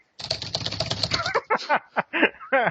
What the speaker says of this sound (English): I hear someone typing and cheating